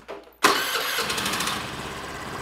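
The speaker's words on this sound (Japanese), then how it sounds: "あとはエンジンをかけてあげて数分間アイドリングをしてあげてみてください。" A Honda Benly 110 motorcycle's four-stroke engine cranks over after a silent beat and catches, then settles into a steady, close, fairly loud idle with an even mechanical hum.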